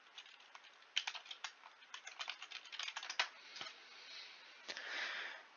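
Typing on a computer keyboard in an indoor setup while someone looks up graphics card mining profitability: a quick, irregular run of light, close key clicks, fairly quiet, with brief pauses and no talking.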